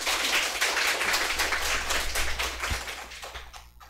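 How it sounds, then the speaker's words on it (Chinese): Conference audience claps to welcome a speaker to the stage at COSCUP 2019, a dense, steady burst of many hands that fades toward the end. "掌声欢迎。"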